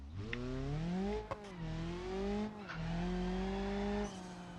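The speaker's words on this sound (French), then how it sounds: "on va faire une belle accélération" A BeamNG.drive car engine revs and accelerates with rising, shifting pitch, dropping briefly between gear changes, with a tire squeal in the middle.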